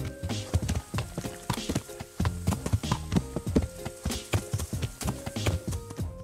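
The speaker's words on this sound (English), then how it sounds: "you can almost center your horse on roads based on the sounds the hooves make" Horse hooves clip-clop in a steady, rhythmic pattern while riding on roads in an open-world video game, mixed into a dense, busy game soundscape.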